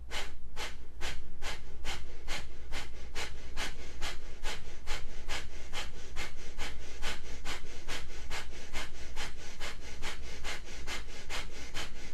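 A meditation breathing exercise with rapid, sharp, rhythmic breaths pulsing close and loud at a steady pace, about thirty even bursts without talk.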